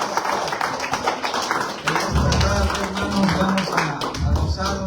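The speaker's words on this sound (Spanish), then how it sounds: "Denle un aplauso al Señor," A church congregation claps in praise during a lively service, uneven rhythmic hand claps mixing with music and voices, growing fuller and louder in the second half.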